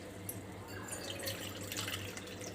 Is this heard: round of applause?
no